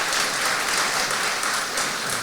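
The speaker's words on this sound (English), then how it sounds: "I couldn't hear over the applause" Audience at a parliamentary election hustings applauding, a dense, steady burst of many hands clapping at close range, sustained evenly with no speech over it.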